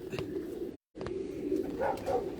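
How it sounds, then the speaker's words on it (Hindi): Parwazi pigeon, a 19-year-old bird, cooing in low soft repeated notes close by, broken by a brief silent gap partway through, with no talk. "ये 19 साल का कबूतर है जी"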